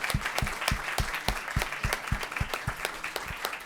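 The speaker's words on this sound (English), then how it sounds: "a big round of applause for Inger" A university audience gives a warm round of applause, crisp individual claps distinct and rhythmic, steady at moderate loudness for several seconds.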